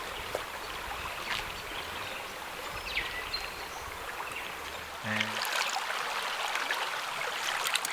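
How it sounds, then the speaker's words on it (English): A little creek runs beside a campsite, a soft continuous trickle of flowing water heard close by and fairly quiet, with a few faint incidental sounds over it. "There's a little creek."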